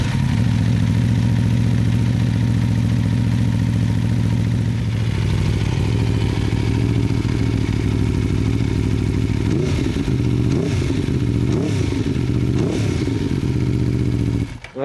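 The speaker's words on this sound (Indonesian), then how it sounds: "Nah sekarang versi fairing-nya yaitu RSV4. Suaranya sih mirip-mirip kayak saudaranya yang Tuono V4." An Aprilia RSV4 sport motorcycle's V4 engine runs loudly nearby, idling steadily at first, then blipped through several sharp revs toward the end, with no talking.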